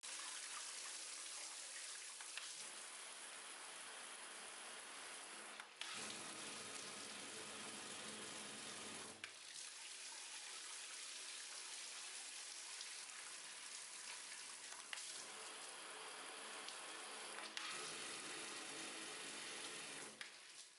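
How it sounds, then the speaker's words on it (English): Water pours steadily from a handheld showerhead, a continuous broad hiss that shifts in strength several times as the flow setting is changed, with brief breaks between settings and no voices. "the water flow can be easily changed with one hand"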